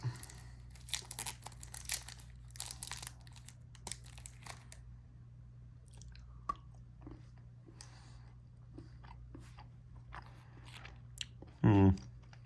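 Someone bites into a Feastables chocolate bar and chews, with crinkling wrapper noises and several sharp snaps early on, then quieter chewing over a steady low hum and a brief louder burst near the end.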